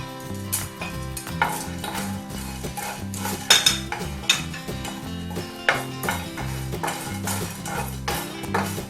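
Cloves and black peppercorns stirred with a metal spoon in a pan while dry-roasting spices for homemade garam masala, a busy run of scraping clinks and rattles throughout, close and fairly loud, no talk.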